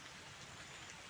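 Heavy rain during a thunderstorm, a steady dense hiss of downpour with no breaks, fairly faint and with no voices.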